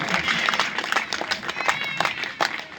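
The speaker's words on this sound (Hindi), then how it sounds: "जोरदार तालियों से स्वागत करिए" An audience breaks into loud, sustained applause, dense clapping from a crowd filling the whole moment, with a voice faintly audible through it.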